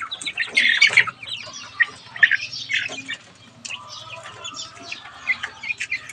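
Month-old chicks, about 32 days old, peeping and chirping, busy close overlapping cheeps and squawks with bursts of louder calls and a low background hum.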